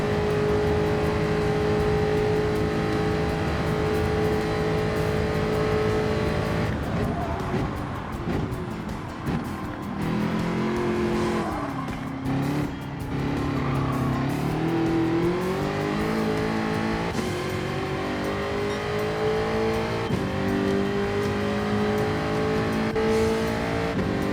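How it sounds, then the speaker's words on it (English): Car engine in the Gran Turismo 7 racing game, a loud continuous roar that climbs and drops in pitch as the car brakes into bends and accelerates out, with a rise through the gears. "braking early, releasing the accelerator, then accelerating out of the bends just to get the absolute most I can out of this car"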